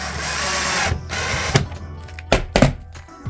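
A power drill driving screws into the hinges of a bunk bed's storage hatch, with a sustained whir that gives way to several sharp knocks and clunks from close by, and no talking.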